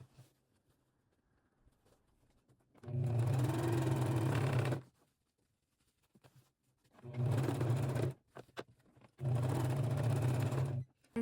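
A home sewing machine stitches a seam on a small leather demilune bag, running in three steady, loud whirring bursts of a few seconds each, split by near-silent pauses with faint handling clicks.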